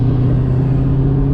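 A supercharged Ford Mustang GT500 engine runs with a steady, loud, close drone and a sustained tonal layer that fits blower whine, under part throttle.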